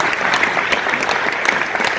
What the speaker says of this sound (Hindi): इनके लिए भी सारे लोगों के लिए एक बार जोरदार ताली हो जाए।